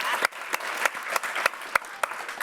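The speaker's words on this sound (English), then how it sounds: "round of applause again for all the wonderful work you guys have done on this" An audience at a PaleyFest panel for a TV show applauds, sharp scattered claps forming a lively round of clapping in a theatre.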